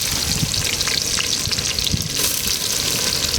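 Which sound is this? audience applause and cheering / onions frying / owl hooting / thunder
onions frying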